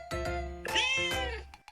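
A house cat gives two drawn-out, close meows in quick succession, clear and fairly loud with no talking over them.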